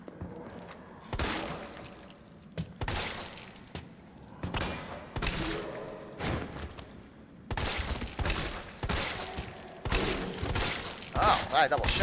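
Gunfire in Resident Evil 3 Remake: repeated loud bursts of shots in clusters, separated by short pauses, up close amid game sounds.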